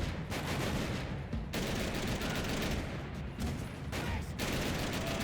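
AK-47 rifle fire in Max Payne 3, a dense, continuous barrage of overlapping shots with brief dips in intensity, loud and unbroken across the whole stretch.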